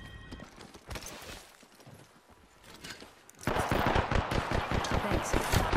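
Sustained automatic gunfire in the video game Apex Legends, suddenly loud and continuous in the second half after quieter scattered sounds, with in-game voice lines earlier.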